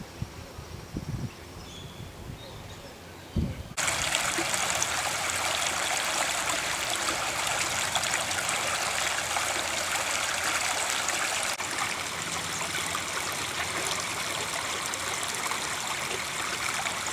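Water rushes steadily in the River Torrens in Adelaide where a drinking-water pipeline passes beneath it; after a few seconds of quiet outdoor rustling, a loud continuous flowing roar begins abruptly and carries on close by.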